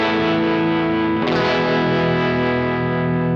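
A guitar run through a harmonic tremolo pedal on an upgraded pedalboard: a dense, sustained chord pulses steadily with a lush, slightly distorted texture, and a fresh strum lands midway, all loud and close with no talking.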